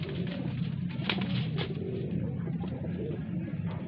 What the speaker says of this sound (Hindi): एक और पीली आंखों की कलसरी कबूतरी आपकी आंखों के सामने है